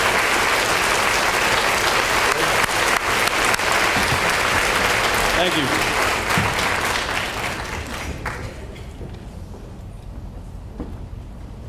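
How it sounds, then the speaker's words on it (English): An audience at a high school senior awards ceremony claps loudly in sustained applause that gradually thins and fades toward the end, with a brief spoken thanks. "Let's give him a round of applause"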